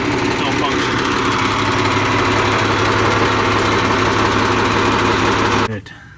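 A rock truck's diesel engine idles steadily at close range with no hydraulic functions engaged, a loud, even rumble with constant harmonic drone that holds for over five seconds before cutting off abruptly near the end.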